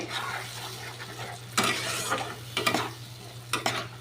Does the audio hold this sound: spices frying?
yes